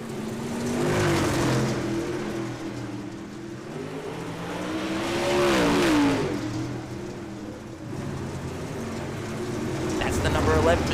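Landon Huff's number 11 dirt race car rumbles out of pit road at Huset's Speedway, its engine swelling and fading in waves of revving beneath a commentator's voice.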